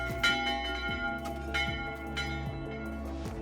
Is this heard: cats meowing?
no